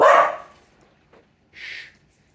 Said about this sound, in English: People get mad when you bark.